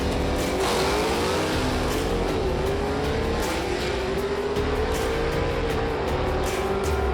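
A 1963 Ford Falcon Futura gasser drag car races down the strip, its engine roaring loud and continuous with a rising, sweeping pitch as it accelerates.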